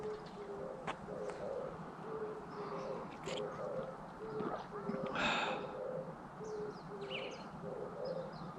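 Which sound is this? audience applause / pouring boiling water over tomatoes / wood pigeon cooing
wood pigeon cooing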